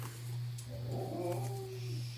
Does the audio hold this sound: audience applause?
no